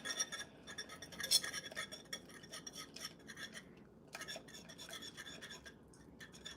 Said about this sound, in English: And then we're just going to stir this.